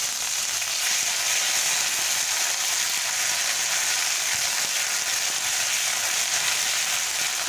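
Green chilli and ginger frying in oil with panch phoron spices in a pan, producing a steady, dense sizzle that holds evenly throughout without pause or voices.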